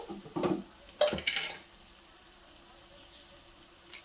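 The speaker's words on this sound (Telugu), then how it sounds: "ఇప్పుడు అల్లం పేస్ట్ పసుపు ఇవన్నీ వేగినాయి కదండి" Ginger paste and turmeric fry in a pan for a bitter gourd curry, with a few close scrapes and clatters of a stirring spoon over a soft sizzle that then settles into a quiet hiss.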